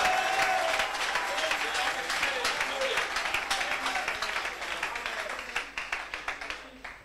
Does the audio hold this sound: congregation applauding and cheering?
yes